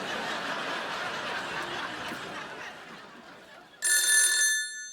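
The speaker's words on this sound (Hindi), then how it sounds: "एक मिनट रुको, मैं फोन लगाता हूँ।" A telephone rings once during a phone call on a comedy show, a short bright electronic trill near the end. It follows a few seconds of faint background chuckling and murmur.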